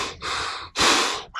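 Heavy, rasping breaths through a mouth-held action camera mount while snowboarding, two long close-up exhalations with a short gasp at the end, loud and alone.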